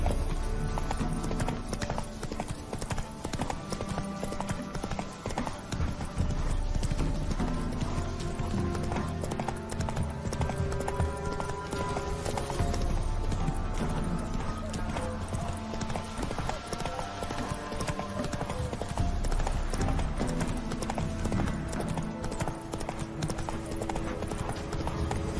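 Rapid hoofbeats of a galloping horse in The Witcher 3, steady and prominent throughout over a full, busy game soundscape with occasional voices.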